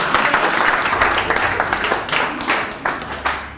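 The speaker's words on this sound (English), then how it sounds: "please a round of applause for her" An audience at an award grand finale claps for a winner in a dense burst that gradually thins and fades, with a few scattered claps near the end.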